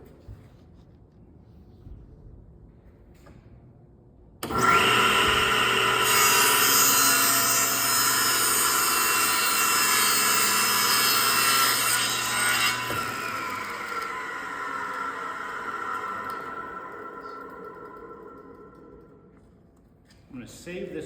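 Table saw ripping a taper cut in wood: the motor spins up with a sudden loud roar, holds a steady cutting whine for about eight seconds, then winds down slowly for several seconds to near quiet.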